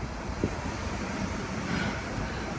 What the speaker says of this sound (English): the roar of the waves